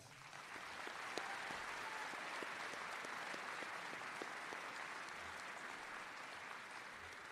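Steady, even applause from a high school graduation audience, faint and distant-sounding, holding at one level for several seconds without voices standing out.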